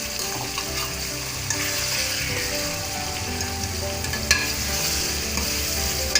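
Small pieces of boneless chicken fry in a pan for chicken karela, a steady close sizzle and crackle with occasional stirring scrapes, continuous and even throughout, no talking.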